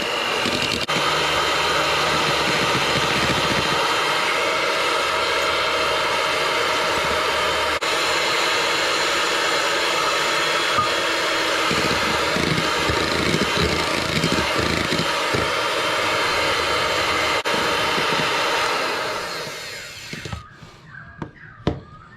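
Electric mixer whisking meringue for Sudanese peanut macarons as icing sugar is added gradually: a steady, loud whirring drone runs continuously for about eighteen seconds, then the motor stops and a few small clinks and knocks follow.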